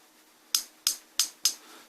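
A small hammer taps on a plastic monitor power adapter case glued shut, four sharp, evenly spaced close knocks over about a second, alone in a quiet room.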